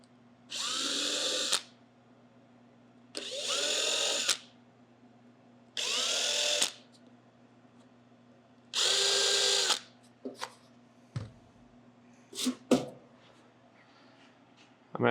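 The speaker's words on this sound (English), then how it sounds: "I can mark it with the drill bit" A cordless drill marking a hood hinge position on a 1965 C10 pickup gives four short, loud bursts of high whine, each lasting about a second, separated by pauses. Small clicks and handling knocks follow.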